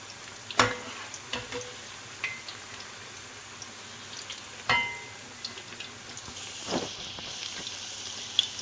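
Spinach and onion pakoras fry in hot oil with a soft, steady sizzle. Occasional sharp clicks and taps sound as they are turned, fairly faint and close, with no talking.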